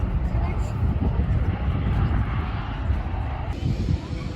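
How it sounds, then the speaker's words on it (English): A Saudi Arabian Boeing 787-9 Dreamliner in 75th-anniversary livery, arriving from Jeddah, lands at Manchester with a loud, steady jet-engine roar close by, its rumble holding throughout before easing slightly near the end. "Saudi Arabian 787-9 Dreamliner, 75 years livery, coming in from Jeddah."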